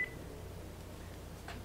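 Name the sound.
phone ringing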